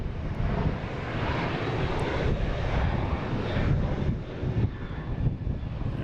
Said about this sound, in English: It's a go around.